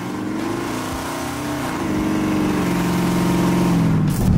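A supercharged 1965 Ford Mustang engine revs up under half throttle, its loud droning tone climbing steadily in pitch as it accelerates, with no talking.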